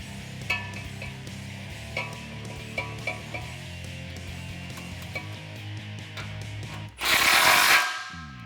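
A ratchet clicks steadily while tightening an exhaust clamp on a 2009-2014 Challenger 5.7L Flowmaster American Thunder cat-back exhaust, close and repetitive, ending in a brief louder whir.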